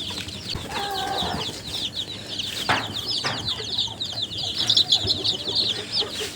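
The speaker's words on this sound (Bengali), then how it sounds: "দেশি মুরগির বাচ্চা বোর্ডিং করতেছি" Native chicks cheep in a brooder, a steady bed of thin, high peeping running throughout at close range, with a few deeper clucks and brief bumps. No one speaks.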